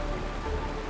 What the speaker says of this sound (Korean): 이게 바로 빗소리란다.